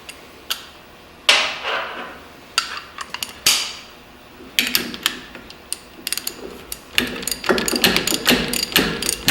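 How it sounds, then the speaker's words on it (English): A holding tool tightening a differential drive pinion nut gives sharp, irregular ratcheting clicks and metallic taps, moderately close, with quieter gaps and a faster cluster of clicks near the end. "We'll then use the holding tool like so to tighten up on that nut."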